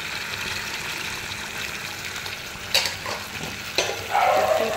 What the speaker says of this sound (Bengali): তেলে জাস্ট অল্প একটু জল দিলাম।